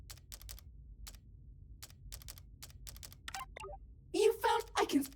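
A computer terminal keyboard is typed on inside the video game Revenge of the Savage Planet: a run of quick, close, light key clicks in short bursts, followed by a voice speaking near the end.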